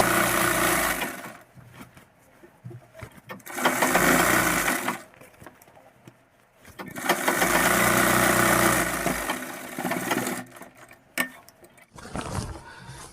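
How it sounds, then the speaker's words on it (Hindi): A sewing machine stitches an elastic waistband on a half-elastic pant, running in three loud bursts of several seconds each separated by quiet pauses, with a shorter stutter of stitching at the end. "एक बीचों बीच हम इसमें सिलाई लगा लेंगे"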